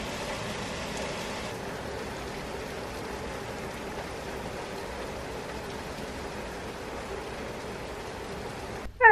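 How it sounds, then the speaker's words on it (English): Heavy rain falling during a storm, a steady broadband hiss of downpour that holds evenly throughout, with a brief louder bump at the very end and no talking. "The rain's getting heavier."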